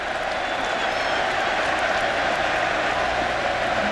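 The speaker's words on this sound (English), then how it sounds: "I said you were a first-class crowd, and here you are booing me." Baseball stadium crowd at an MLB game between the Braves and the Mets, booing a fielding error in a steady, dense roar that fills the whole stretch with no break.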